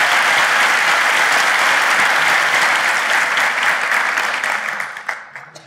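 Large theater audience in Istanbul applauding loudly as a live show opens, dense sustained clapping that fades out over the final second.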